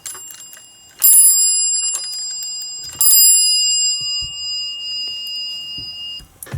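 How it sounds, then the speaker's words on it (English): A 24 volt bell inside a Dover VR elevator lantern rings when shaken, two bright metallic rings each decaying over about two seconds, loud and close, followed by faint handling clicks. "you can see the bell rings"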